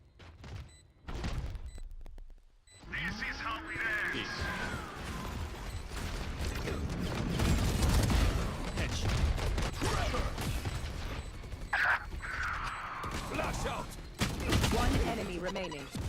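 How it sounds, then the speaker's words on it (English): Missiles launch in a video game in a busy burst of whooshing launches, mechanical clanks and sharp cracks, with rising tones and repeated loud hits spread across the clip after a brief quiet gap. "All missiles away."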